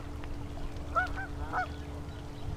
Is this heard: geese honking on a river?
yes